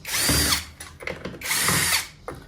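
A power driver backs out T25 screws from the underside of a Floatwheel ADV board in two whirring bursts, loud and close, each about half a second long, with small clicks between them.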